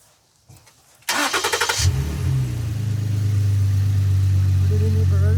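A Toyota car from the dealership starts with a burst of cranking, then settles into a steady, close engine idle that continues to the end.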